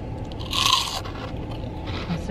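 Someone bites into crunchy Taco Bell cinnamon sticks while eating, and a loud close crunch comes with the bite, followed by quieter crackly chewing. No talking is heard.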